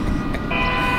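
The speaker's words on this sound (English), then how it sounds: "Momentary pause for the train." A train passes close by, giving a steady, loud rumble with a sustained tonal hum that rises partway through, heard alone without talk.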